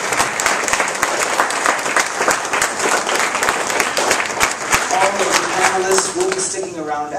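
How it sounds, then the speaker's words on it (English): A forum audience gives panelists a loud round of applause, many hands clapping densely and evenly close by, with voices starting to talk over the clapping toward the end as it thins. "give them a round of applause"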